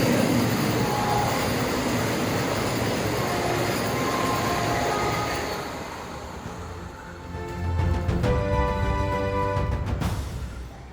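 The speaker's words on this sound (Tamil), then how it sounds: "வந்தே பாரத் ரயிலின் சோதனை ஓட்டம் மதுரையில் துவங்கியது" A Vande Bharat train on a trial run in Madurai rumbles past loudly with a continuous roar of wheels and carriages, followed by rhythmic clacking over rail joints as it continues.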